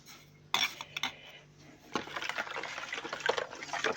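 Spoon clinking and stirring in a bowl of yeast, warm water and salt, a sharp tap followed by scattered light knocks and a busier swirl of scraping and liquid, close and fairly quiet.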